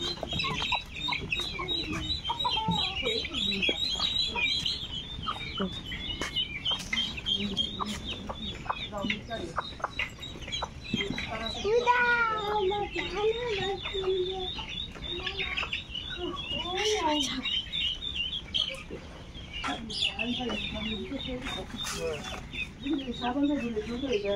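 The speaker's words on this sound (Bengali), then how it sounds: "এই তো এটা আমাদের মুরগির খোপ এই তো এখানে ছোট বড় সব মুরগি থাকে" Chickens of all sizes in a village coop near Faridpur, clucking and calling continuously with rooster-like notes, close and busy, with a voice speaking at times.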